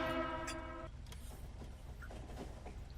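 Train running in the video game Factorio on solid fuel, heard as a steady low rumble with a sustained horn-like tone at the start that cuts off before one second, then continued mechanical rolling with small clanks.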